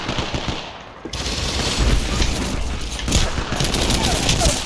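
Shotgun fire during a firefight in the video game Apex Legends: after a brief quieter moment, dense and loud overlapping blasts rattle close by without pause.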